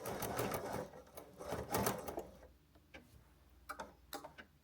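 A sewing machine runs in short bursts of rapid stitching while back-stitching at the end of a seam on a quilted book sleeve, then gives a few isolated clicks and taps.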